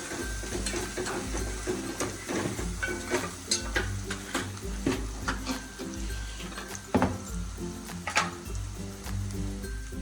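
Spices such as turmeric, coriander-cumin powder and salt being stirred into onions cooking in a pan, with steady scraping strokes over a continuous sizzle and some background clatter, no talking.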